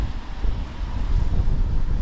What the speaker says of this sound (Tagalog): Lakas ng hangin niya, guys,